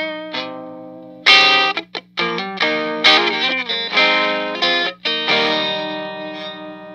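Heavily distorted electric guitar through an Amaya Electronics 3Tortion X2 pedal, neck single-coil pickup, volume and tone fully up, playing chords and sustained notes, loud and saturated, with brief pauses between strums.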